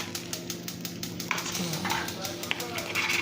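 Flour for Southern-style gravy stirred and broken up in a pan, making a steady scrape and gentle sizzle with rhythmic ticks of the utensil against the metal, close by, under someone talking.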